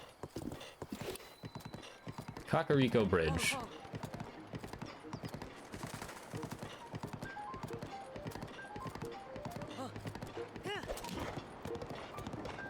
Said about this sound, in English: This horse is a wild one.